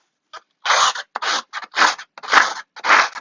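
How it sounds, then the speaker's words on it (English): Scissors snip through paper or card for a watercolor floral card in a run of about seven distinct, close cuts, each a short crisp rasp separated by brief pauses. "let me quickly show how to do it with scissors"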